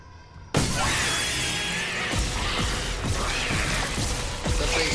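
Glass shatters in the Dead Space remake: a sudden loud crash bursts in and is followed by seconds of dense breaking and scattering debris, with a few further sharp impacts.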